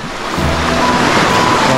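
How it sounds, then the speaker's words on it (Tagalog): Water lapping and washing against the coast near San Fernando, Camarines Sur, a short, loud, close wash of surf with no talk. "Tapos tanging kampas lang ng tubig marinig ninyo."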